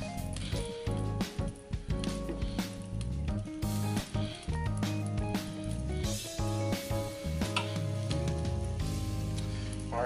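Salmon sizzles and spatters on the grill of a Ninja Foodi XL grill air fryer, a loud, dense continuous crackle close up, with sharper pops and a few thumps of handling throughout.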